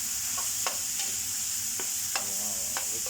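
Onions sauté in a restaurant pan, hissing with a constant bright sizzle while a utensil scrapes and stirs them in several distinct strokes.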